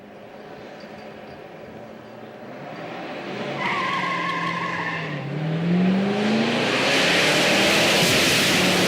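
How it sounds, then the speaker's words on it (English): Muscle car tires skidding through a burnout contest, a loud sustained squeal that swells and shifts pitch over the engine's roar, growing more intense toward the end. "You were getting the cars and doing a burnout contest."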